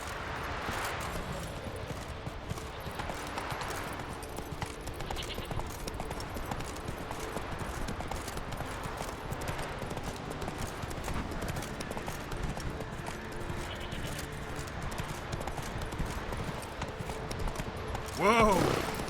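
Roach the horse gallops in The Witcher 3, hooves pounding in a fast, steady rhythm throughout, with a voice heard over the galloping.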